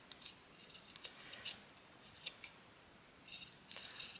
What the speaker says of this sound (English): let's just cut a little circle